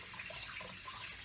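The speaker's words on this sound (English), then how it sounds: "Put a little hot water on it." Hot water runs steadily from a kitchen tap over a stuck jar lid, a close, continuous splashing flow with no voices.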